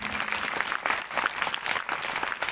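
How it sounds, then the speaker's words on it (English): Applause honoring students for their volunteer service at a feast day celebration, a steady crowd of hands clapping throughout, moderately loud with no talk over it. "So let's give them a big round of applause for their service."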